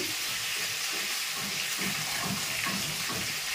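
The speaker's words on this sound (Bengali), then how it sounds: "বাঁধাকপি একটু ভাজা ভাজা হোক, ওই আলুটা।" Cabbage and potato frying in a pan with five-spice tempering, giving a steady, dense hiss that sounds close and continuous, with no voices over it.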